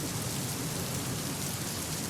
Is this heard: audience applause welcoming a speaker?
no